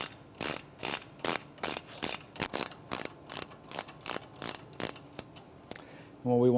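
Ratchet removing a bolt on a 2006 Mitsubishi Evolution IX, a rapid steady run of close metallic clicks in short back-and-forth strokes, ending with a brief voice.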